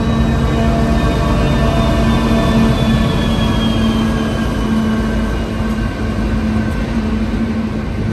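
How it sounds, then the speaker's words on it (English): A Pacific National steel freight train rolls past on the Nullarbor line to Adelaide, a loud steady rumble of wagons with a sustained low tonal hum and faint squealing overtones throughout, no voices. "this Pacific National Steel train heading across the Nullarbor to Adelaide and"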